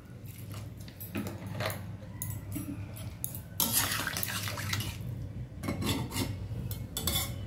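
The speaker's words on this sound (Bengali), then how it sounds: "তো এর মধ্যে আমি জল দিয়ে দেবো" Water is poured from a vessel into chilli chicken gravy in a pan, a close splashing and trickling stream with small clinks of metal cookware, swelling louder midway and continuing with intermittent splashes.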